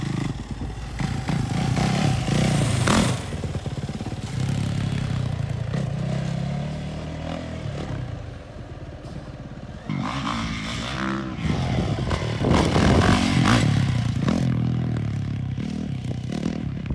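Dirt bikes ride around a BMX-style dirt course, engines buzzing and revving in passing waves, some close and loud, others fading into the distance, with clattering from the track.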